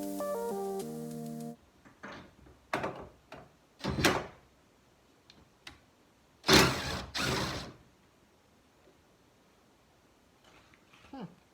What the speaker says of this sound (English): Just got to unscrew that nut and it'll take that top bracket right off there.